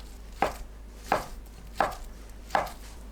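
A knife chops imitation crab sticks into 1 cm pieces on a cutting board, with four sharp, evenly spaced chops close up and no voices.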